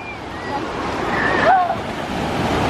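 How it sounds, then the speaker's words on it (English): Big ocean waves breaking on a hot beach, a broad steady surf wash with a swelling crash near the middle, wind buffeting the microphone and a faint distant whistle-like tone. "oh, the waves are getting big"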